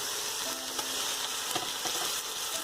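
Ginger garlic paste frying with onions and whole spices for a Bengali prawn curry, a dense continuous sizzle with occasional light spatters and faint stirring, close and steady, no voices.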